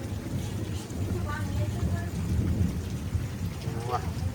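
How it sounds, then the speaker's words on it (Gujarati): Steady rain in a sudden storm, a dense close hiss with a low thunder rumble beneath it, and faint voices now and then. "મસ્ત વરસાદ આવી ગયો"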